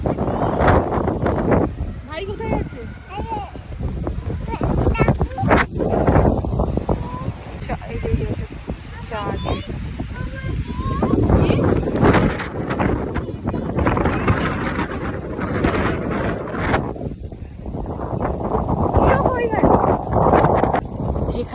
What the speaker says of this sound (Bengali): হাওয়াতে চোখ দিয়ে জল পড়ছে বিশাল হাওয়া দিচ্ছে